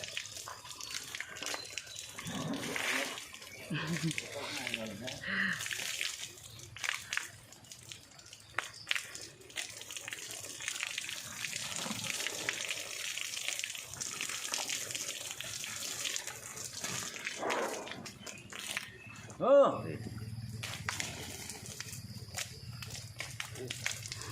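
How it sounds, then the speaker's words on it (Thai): During a morning bath for an elephant, water runs weakly in a steady low splash, with someone talking over it, occasional footsteps and one brief louder knock near the end. "น้ำไหลเบา น้ำไหลไม่ค่อยแรงนะคะ"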